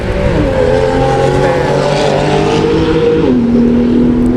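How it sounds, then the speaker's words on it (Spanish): A loud engine roars close by, its pitch sliding down as the vehicle passes, with steady road noise underneath. "La moto estuvo muy fuerte."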